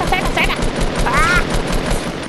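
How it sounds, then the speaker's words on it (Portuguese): Gunfire in the Fortnite video game, Blitz solo mode, a dense burst of rapid shots running through most of the clip under ongoing talk. "Agora a gente já atira nele."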